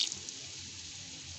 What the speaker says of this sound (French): Je vais rajouter encore un tout petit peu d'eau.